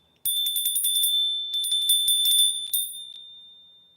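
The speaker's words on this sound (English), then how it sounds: "The bell of happiness." A small bell rings in a quick run of bright metallic strikes, then a second flurry after a short pause. The clear ringing tone lingers and fades afterwards.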